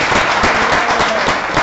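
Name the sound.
audience clapping for Jesus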